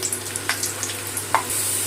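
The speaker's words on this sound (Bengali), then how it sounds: "আলুগুলোকে তেলের ভিতরে দিয়ে দেবো।" Potatoes sizzle steadily in hot oil in a wok, with a few soft crackles and pops over a constant hiss.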